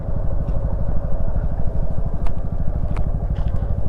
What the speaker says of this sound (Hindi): बाइक को बंद नहीं करूंगा मैं, बाइक को चालू रहने दूंगा।